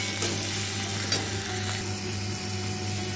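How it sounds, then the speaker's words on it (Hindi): Tomatoes and onions frying in a pan give a steady, close sizzle, with a couple of brief knocks or stirs breaking through. "यहाँ पे टमाटर प्याज भून चुका है"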